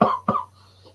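Two close coughs from one person, the first a little longer, then a quiet pause with a low steady hum underneath.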